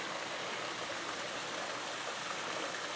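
Water runs steadily from a hose or sprinkler onto a freshly mowed lawn, a constant even hiss with no talking.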